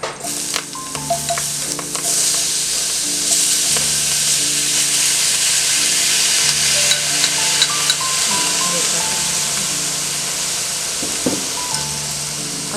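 Crushed shallots fry in hot oil for a Kerala-style beef roast, a loud, continuous close sizzle with occasional stirring knocks and a faint steady melodic tone running underneath.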